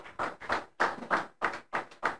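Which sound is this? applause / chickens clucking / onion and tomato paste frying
applause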